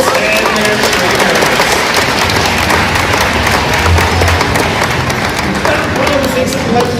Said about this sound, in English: How about a big round of applause for the whales and their trainers